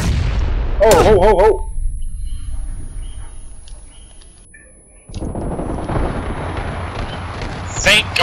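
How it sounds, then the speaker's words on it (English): In the PUBG video game a grenade explosion booms near the start, followed by a short shouted exclamation, a quieter lull, then renewed rumbling game noise. "Threw a grenade."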